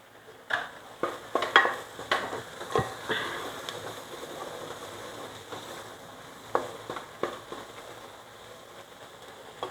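Tri-colour bell pepper pieces tipped into a pan for white sauce pasta, then stirred with a spoon, giving a run of irregular scraping clicks and clinks against the metal over a faint low sizzle.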